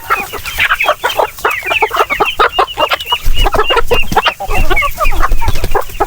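Chickens and roosters crowd around feed at a farm, a dense, busy chorus of clucking and squawks with short pecking bursts throughout, loud and close, no talking.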